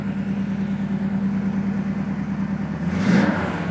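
A 1968 Chevelle SS 396 convertible V8 idles with a steady low rumble, then a brief louder burst of revving near the end, close by with no talk.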